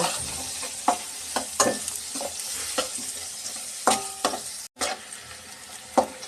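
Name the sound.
chopped onion being stirred and fried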